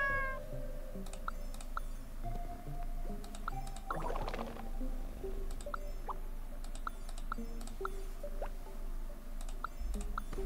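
A cat in Genshin Impact meows repeatedly in short, high mews scattered across the stretch, over soft game music with a brief rustly burst in the middle.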